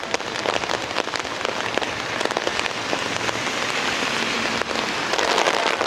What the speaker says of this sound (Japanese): 雨すごいな。